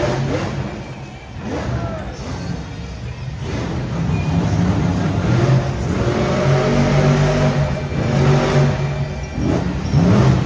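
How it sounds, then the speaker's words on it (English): Monster truck engine fitted with mufflers, the Bailey Circuit truck, revving in repeated loud surges, muffled but still powerful and close, with pitch climbing and falling throughout. "we have Bailey Circuit with mufflers on, and it sounds like, as someone said in the comment, it sounds like a Beam and G drive truck"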